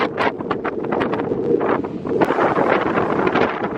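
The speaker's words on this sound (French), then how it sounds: "Il y a trop de vent." Strong wind buffets the microphone on a beach in Guadeloupe, a steady roaring rumble with gusts and rustling that stays loud and close throughout, no speech heard.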